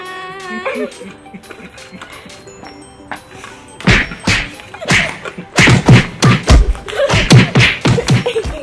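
Sharp, loud slaps of a tortilla against a face land in a quick irregular run during a family challenge game, mixed with shouts and laughter, after a quieter stretch of talk and music.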